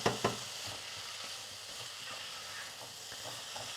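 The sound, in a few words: stirring sweet potato with browned onions and ginger in pot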